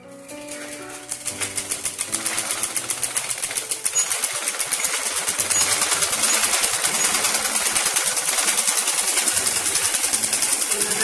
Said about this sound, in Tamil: இது எல்லா பீஸையும் ஜாயின் பண்ணிட்டு ஃப்ரில் ஓரம் மடிச்சு தைக்க போறோம்